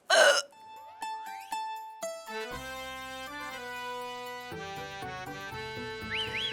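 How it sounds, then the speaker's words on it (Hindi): A comic burp after eating jalebi in the sitcom Happu Ki Ultan Paltan: one short, loud belch at the start, followed by playful background music with tonal sound effects. "जलेबी वाली डकार काहे आई?"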